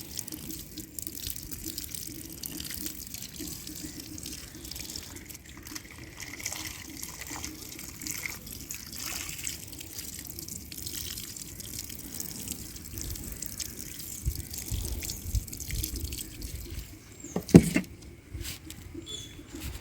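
Water trickles and drips steadily onto potting soil being soaked for planting a lotus tuber, a quiet continuous wet patter with a brief louder splash near the end.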